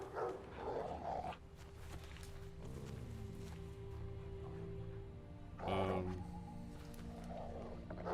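A dog in the game Witcher 3 barks and growls in short bursts, with sustained lower tones between them, while people talk over the game audio.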